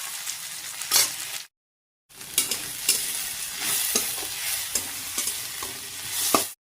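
Dried red chillies fry in hot tempering oil, a close crackling sizzle with stirring scrapes and sharp pops, broken by a brief silent gap.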